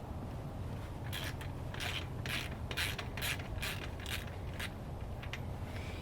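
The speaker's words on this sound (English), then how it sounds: "I have a ratchet, and you can just take off your wheels like that." A ratchet wrench loosens a bicycle wheel's axle nut, clicking in short repeated bursts of fast pawl ticks, close and clear over a low steady background hum, with no speech.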